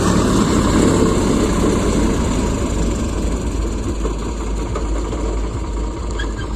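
A tractor idles on a village road in Rajasthan, its loud, low engine drone rumbling steadily and close up with a slight knock throughout.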